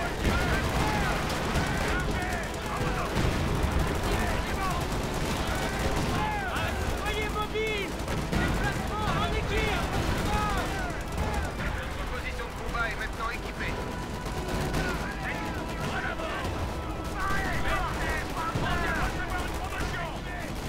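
Dense, continuous battle din from Company of Heroes 2 in the Ardennes, with an anti-tank battery and rapid gunfire crackling and booming throughout, layered under constant combat noise and game voice lines.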